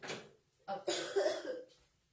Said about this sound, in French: vous entendez ma fille aussi tousser